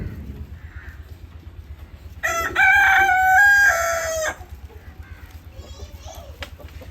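A rooster crows once loudly and close, a drawn-out call lasting about two seconds, among a flock of village chickens with faint clucking and children's voices in the background.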